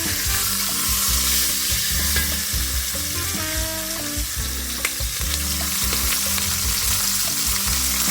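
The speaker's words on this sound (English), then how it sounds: "Now I'm going to saute these veggies in here." Vegetables sauté in a pot with a loud steady sizzle, broken by repeated scraping and clanking as they are stirred near at hand, no voices present.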